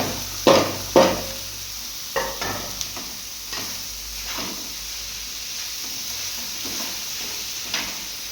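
Paneer bhurji stirred in a pan with a spoon, a few distinct scraping knocks against the metal followed by softer intermittent stirring scrapes over a faint background hum.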